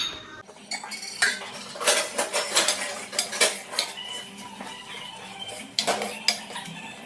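A spoon stirs tomato and garlic curry in a metal cooking pot, giving irregular scraping clinks and knocks against the sides, close and moderately loud, with no voices.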